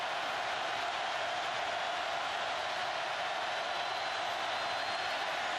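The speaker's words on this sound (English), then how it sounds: "this crowd is wild with their Volunteers up by a touchdown here in the 1st quarter" A large football stadium crowd roars for the Tennessee Volunteers during a 2010 college game against Alabama. The sound is a steady, dense wash of distant cheering that holds at one level throughout, with no single voices standing out.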